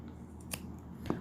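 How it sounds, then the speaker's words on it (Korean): Scissors snip diagonally across a sewn fabric corner, with a couple of short, quiet, crisp cuts near the end over a faint background. "사선으로 잘라 주실 거예요."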